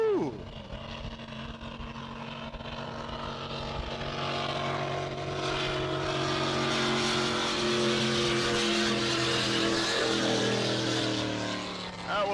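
A drag racing car makes a nine-second pass at the 2022 SDBA Paris finals, its engine roaring loud and sustained with climbing pitch, while an announcer's voice carries over it.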